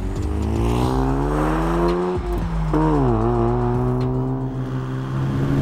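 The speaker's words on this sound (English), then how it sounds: "That second turbo when it comes on, sequential turbos obviously, feels good" A Veilside Mazda RX-7 FD with sequential twin turbos accelerating hard, a loud continuous engine note rising through the revs, with a brief dip as it shifts and climbs again.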